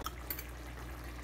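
A pot of pig trotters boiling in water, giving a faint, steady bubbling and simmering with no talk.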